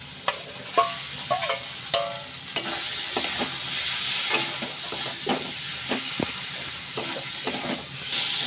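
Kaske fish frying in spiced masala in a pan, a continuous sizzle broken by scraping stirs and occasional sharp clinks of the utensil, close and fairly loud.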